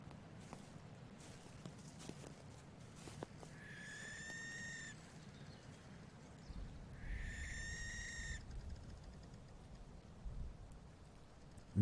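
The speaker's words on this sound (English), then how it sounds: "This ghostly pale and normally strictly nocturnal animal, the barn owl, is a silent predator of the night world." A barn owl in nighttime grassland gives two drawn-out, harsh calls a few seconds apart, each rising clearly above faint rustling and soft ambient noise.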